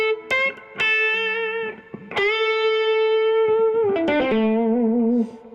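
An electric guitar runs through a pedal into two amps set to tweed mode, one of them a Lone Star, with Boogie-style reverb. Sustained, slightly driven notes and slides ring out alone with a warm tone and a lingering tail.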